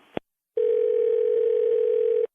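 A telephone receiver clicks down, then after a brief silence a steady, loud dial tone hums on continuously at one pitch until it cuts off.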